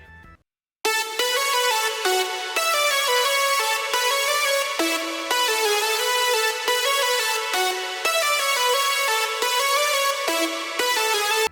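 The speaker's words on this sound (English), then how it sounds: "Add a secondary lead that sounds like this." A bright, bell-like secondary lead synth for a drum and bass drop in FL Studio plays a fast repeating melodic pattern, loud and continuous after a brief quiet start.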